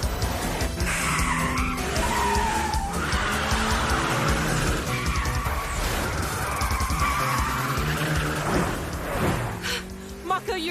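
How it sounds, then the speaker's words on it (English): Four-wheel-drive Mitsubishi Evo 4 drifting at high speed in the Initial D racing game, with a steady loud engine roar and layered tire squeal running throughout, a voice briefly audible over the game noise. "What I got is a high-speed four-wheel drive drift with an engine always on full blast."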